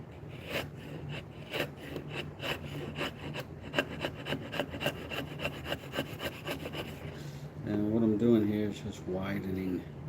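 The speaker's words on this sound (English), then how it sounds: "I'll go with a little bigger chisel here." A wood chisel cuts and widens a groove in wood, giving repeated short scraping and rubbing strokes at close range, with someone talking over the work near the end.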